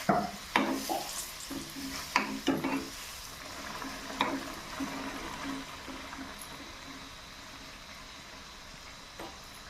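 Karanji, fresh-coconut-filled pastries, frying in hot oil, with soft sizzling and intermittent stirring clatters that are louder in the first few seconds, then a steadier, quieter bubbling hiss.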